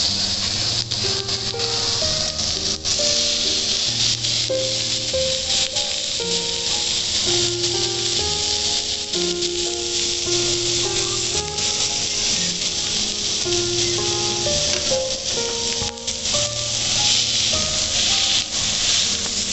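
Marinated tandoori broccoli sticks fry in hot oil over medium heat, giving a steady, bright sizzling hiss that runs unbroken beneath melodic background music.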